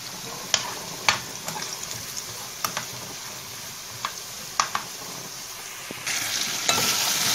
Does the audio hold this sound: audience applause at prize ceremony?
no